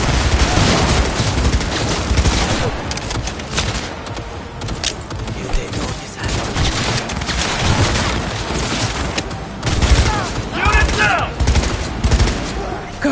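Dense gunfire in a Cyberpunk 2077 firefight: bursts of automatic and single shots crowd together with thumps and impacts, loud and continuous, under a busy game soundtrack with brief voices.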